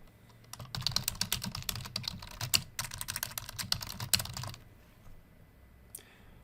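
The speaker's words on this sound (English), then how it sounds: "in here, you can type notes on your contacts" Fingers type notes on a computer keyboard in quick, irregular bursts of close, crisp key clicks, pausing briefly and ending with a single last tap.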